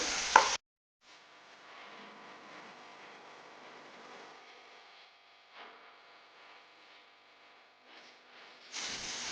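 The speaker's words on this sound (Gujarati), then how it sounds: "તેને આ રીતના આપણે સતત હલાવતા જ રહીશું." Fresh sweetcorn chevdo being stirred in a pan: a steady soft scraping and sizzling hiss runs throughout, with a louder clatter at the very start and end.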